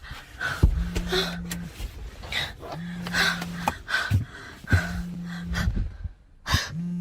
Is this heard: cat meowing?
no